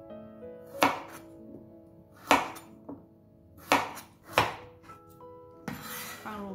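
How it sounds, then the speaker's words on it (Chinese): A 60-gram carrot, stem end removed, is roll-cut with a knife on a board: four or five crisp, close chops spaced about a second apart, each a sharp thud with a short scrape, ending in a rougher scraping sweep. "切滚刀，"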